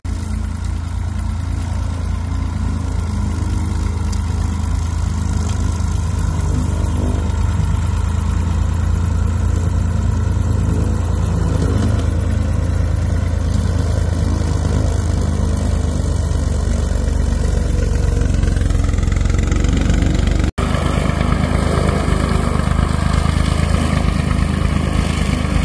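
An IMT 533 tractor with a turbo engine idles steadily at low throttle with a loud, close, continuous rumbling drone that stays even for the whole stretch, with no talking.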